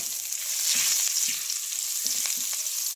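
Garlic frying in a little oil in a pan: a bright, close, continuous sizzle, with soft stirring scrapes and taps at intervals and no talking.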